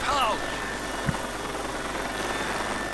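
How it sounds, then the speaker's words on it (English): A helicopter in the zombie shooter game Left 4 Dead 2 makes a steady, droning rotor hum under the noise of the game, with a player's voice briefly cutting in over it. "I hear it, chopper."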